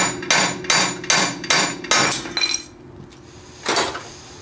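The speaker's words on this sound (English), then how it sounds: "Get your hammer, grab hold of the spindle," Steel hammer blows strike the spindle of a Ford Ranger or Mazda pickup, five quick ringing metallic hits in a steady rhythm, then a pause and one final louder strike, close and clear.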